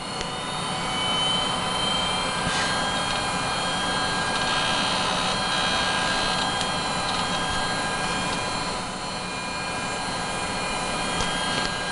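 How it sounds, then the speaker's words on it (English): Hard drives spinning up inside an IBM eServer xSeries 220 server, a steady loud whirring hum with thin high whine tones holding throughout, close by and alone. "That one there is spinning up right now."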